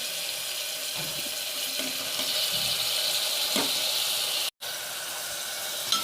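Tomato added to onions frying in a pan, giving a strong, continuous sizzling hiss that stays close and loud, broken by one brief dropout.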